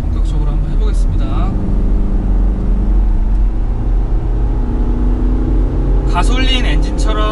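Kia Carnival minivan driving along a winding road, a continuous loud low engine and road hum from inside the cabin, with a person speaking over it near the start and end.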